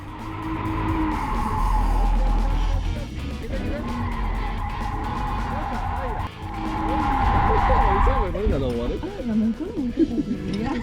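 A car drifting under throttle control, engine revving and surging in long sustained pulls with tire squeal, then rapid rising and falling revs near the end, while people talk over it.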